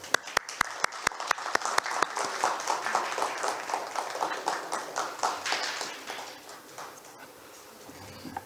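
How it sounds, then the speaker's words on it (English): Conference audience applauding to welcome a keynote speaker at a high-level roundtable event, a loud, dense burst of clapping that builds then fades out over several seconds, with no talking. "Please welcome him with a round of applause."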